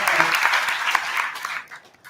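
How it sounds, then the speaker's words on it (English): Attendees at an IEEE international conference on intelligent systems applaud, a dense round of clapping that holds steady and then tapers off quickly toward the end. "I would like to give a big round of applause for that."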